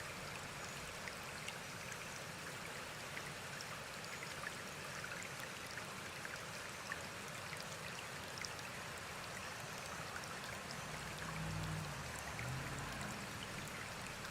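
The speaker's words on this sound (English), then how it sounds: "Just so you can hear the water, I'm going to shut off my mic just for a moment and see if you can still hear the water" A flowing stream of water, a steady, soft rush and trickle that continues evenly throughout, faint and alone with no voices.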